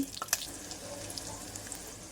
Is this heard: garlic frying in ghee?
yes